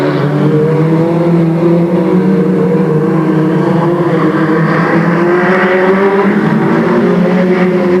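A pack of race cars at Delta Speedway in Stockton, 1996, roars off the corner under the green flag, engines loud and sustained with rising revving tones throughout.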